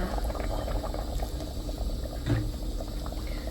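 Water bubbles and churns at a steady boil in a cooking pot, a dense low rumbling simmer close at hand with no talking.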